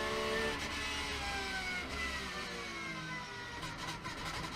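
Racing car braking into the Carrousel corner during a race, a continuous engine whine with harmonics sliding downward as it slows, heard steadily with other car noise and no talking.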